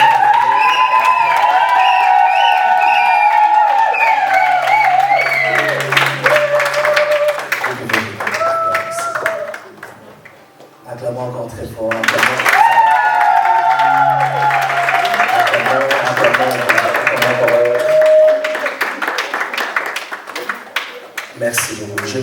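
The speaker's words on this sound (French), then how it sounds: "Acclamons très fort encore." Guests at a wedding dowry and nuptial blessing ceremony clap and cheer loudly, with voices calling out over the applause in two long swells separated by a brief lull.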